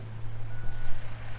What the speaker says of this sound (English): They're dumping sand back there.